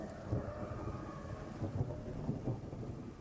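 Steady rain ambience with low rumbling thunder rolling through, a continuous dense wash with no talk over it.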